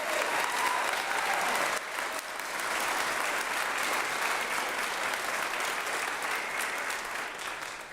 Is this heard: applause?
yes